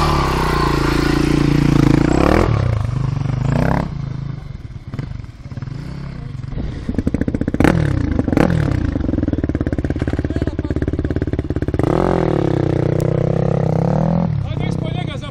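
A motorcycle engine running close by, its note rising and falling in revs amid clattering, with people talking loudly over it throughout.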